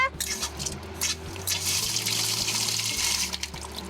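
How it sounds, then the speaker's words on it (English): Water rushes steadily through an indoor chicken coop float valve water system, a continuous splashing flow like a filling sink with a low mechanical hum beneath, heard close and loud throughout. "gonna go turn the water on, and then we'll see if it doesn't let water through"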